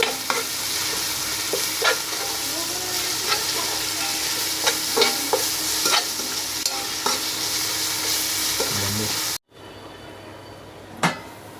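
Ginger garlic paste sizzles steadily in a hot pan for biryani, a continuous frying hiss broken by scattered spoon scrapes and taps. The sizzle cuts out abruptly near the end, then returns more quietly.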